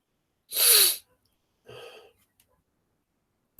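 A single loud, close sneeze in a quiet room, followed by a softer breathy exhale or sniff a second later, then silence.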